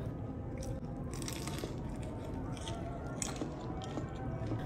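Crispy battered fried shrimp with rice and chili sambal being bitten and chewed, giving steady close crunching and squishing over dense background noise.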